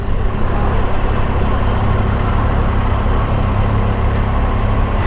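A Triumph Tiger motorcycle engine runs with a loud, steady low rumble heard close up, holding an even drone throughout without distinct rises in pitch.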